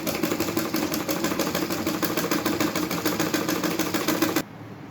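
A sewing machine runs a continuous fast stitch along a palazzo pant seam, a steady rapid mechanical whirring and clatter that stops abruptly near the end, leaving quiet room tone.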